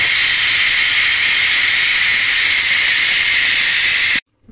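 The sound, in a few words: pressure cooker whistle while cooking pork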